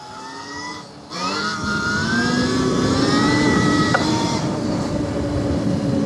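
A dirt bike engine revs hard during wheelie attempts, a loud, steady whining drone that rises in pitch after a brief dip and then holds near and sustained for several seconds.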